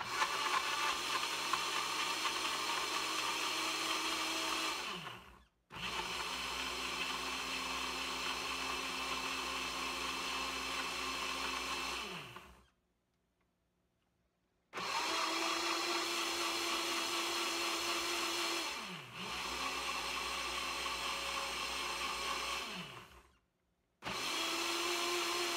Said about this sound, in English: This is a cheap blender, y'all, so I gotta make sure I got it good